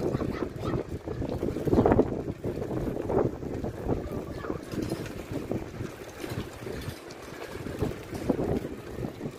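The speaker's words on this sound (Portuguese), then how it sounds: "Que vento gelado." Steady gusting cold wind buffets the microphone in Navegantes, Santa Catarina, Brazil, a continuous rough rumble rising and falling over several seconds, with no one talking.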